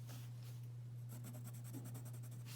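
Colored pencils scratch and rub across paper in a quiet room, soft rhythmic strokes over a low electrical hum.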